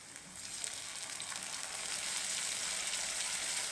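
Spice paste fries in oil with browned onions, giving a steady, close sizzle that grows slightly louder and holds an even crackling hiss throughout, with no talk.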